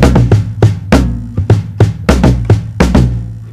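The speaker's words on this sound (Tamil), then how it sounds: "ஸோ அதுக்காக இந்த டாம் பேர் ஃப்ளோர் டாம் அப்படின்னு வச்சுருக்காங்க." Floor tom drum struck in a steady pattern of deep, resonant hits, close and loud, each stroke ringing briefly before the next, with no voices.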